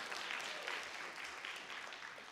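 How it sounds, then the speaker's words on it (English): Dense, continuous clapping from an audience at a senior academic and athletic recognition ceremony, a soft and fairly distant wash of many hands that stays steady throughout. "Oh yeah, you can clap. Go ahead."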